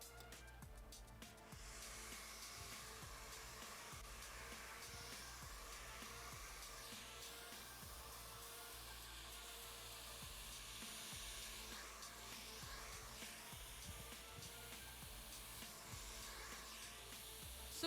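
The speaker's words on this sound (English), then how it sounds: "So I'll just show you how I'm doing the blow dry." A hair dryer blows steadily while a brush works through hair during a hairstyling demonstration at PBI Kochi, a continuous close airy roar that holds at an even level for the whole stretch.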